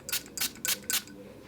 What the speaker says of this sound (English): I'm gonna spray it on my hand